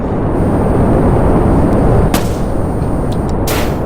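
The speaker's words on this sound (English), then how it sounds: "SRB separation." Solid rocket booster separation on a Kerbal Space Program rocket climbing past 10,000 meters, heard as a loud, constant engine roar with two short popping bursts near the end.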